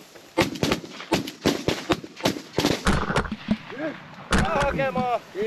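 Repeated loud shotgun blasts ring out at a goose hunt in Sweden, about a dozen sharp reports in quick bursts, with excited voices shouting between and after the shots.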